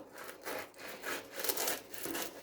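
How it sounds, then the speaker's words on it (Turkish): A knife saws through a whole loaf of bread, cutting it in half with several rhythmic back-and-forth crusty rasping strokes, close and fairly quiet with no talk. "Ekmeğimi şu şekilde ortadan ikiye kesiyorum"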